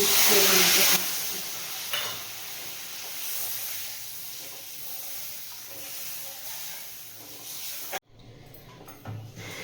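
Bowl-rinsing water is poured into a hot pan of spices for a raw hilsa dish, bursting into a loud, steady hiss and sizzle that fades and then cuts off abruptly near the end.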